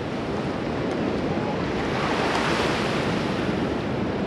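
Ocean surf at Melasti Beach washes in as a steady broadband rush, moderately quiet and continuous, with wind noise on the microphone and no voices.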